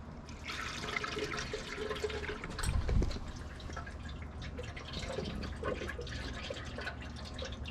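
Distilled water poured steadily into the engine of a turbocharged 3800 Camaro, a continuous trickling, splashing flow with a brief louder gush partway through, heard up close in a garage.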